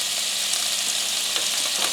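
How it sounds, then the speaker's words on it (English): Butter frying in a frying pan on the stove, a steady close hiss and crackle of sizzling fat with no talk. "We need the butter to fry"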